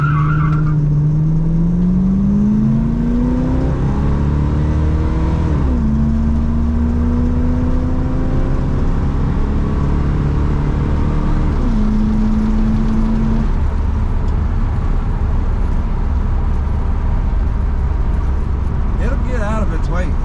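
A 1978 Chevrolet Corvette C3 Indy Pace Car accelerates hard, its loud, close engine note climbing through the gears with audible shifts before settling and fading.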